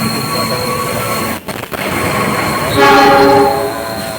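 Pangrango passenger train running near Bogor station, a loud steady rumble of rolling carriages with clattering wheels, a brief dip in the noise midway and a sustained horn-like tonal blare rising toward the end.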